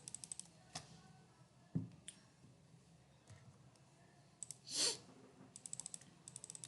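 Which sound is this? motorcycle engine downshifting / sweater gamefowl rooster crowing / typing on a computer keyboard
typing on a computer keyboard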